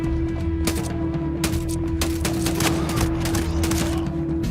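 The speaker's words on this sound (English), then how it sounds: "I made a decent human shield while I shot the others with my pistol" Pistol fire in the shooter game Ghost Recon Breakpoint comes as a dense run of loud, sharp shots in quick irregular succession over a steady droning game background.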